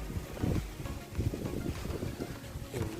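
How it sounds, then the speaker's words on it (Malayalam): Strong wind gusts outdoors, buffeting the microphone with a steady low roar that swells in bursts throughout. "എന്താ കാറ്റ്."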